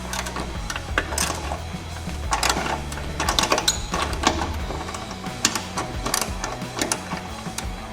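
A 3/16 Allen head socket driver removes bolts on a Harley Road Glide Special saddlebag area, giving rapid mechanical ratcheting and clicking bursts with metallic taps over a low background hum.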